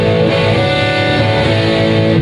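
Distorted electric guitar plays the opening riff of a song: two A strums, then a hammer-on and another strike ending in a pull-off. The tone is thick and sustained and stays loud and steady, with no voices.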